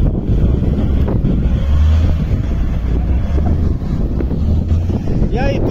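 Strong wind in the town of Acari, Rio Grande do Norte, buffets the microphone with loud, continuous low rumbling gusts.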